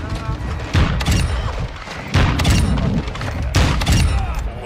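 Explosions and gunfire burst repeatedly in the video game Call of Duty: Modern Warfare II, several loud booms and cracks over a busy rumbling battle background.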